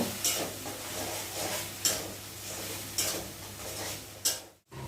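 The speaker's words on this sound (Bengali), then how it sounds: "এখন একটু মশলাটাকে নেড়ে চেড়ে ভালো করে কষিয়ে নিব।" Ground spices fry in a pot for mutton curry, with a soft steady sizzle under the scrape of a spoon that stirs them, and four sharp clinks of metal against the pan come at even intervals.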